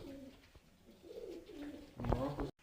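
Pet pigeons coo close by in soft, low repeated calls, with a louder burst of cooing near the end; someone talks faintly in the background.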